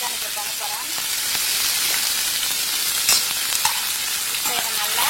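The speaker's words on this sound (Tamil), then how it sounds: "இதுல வந்து வெங்காயம் தக்காளி சேர்த்து போறேன். சேர்த்துட்டு இதை நல்லா வதக்கணும்." Onions and tomatoes sautéing in a pan for an egg fry give a dense, continuous hiss and sizzle, close and fairly loud, with occasional soft stirring scrapes and no speech.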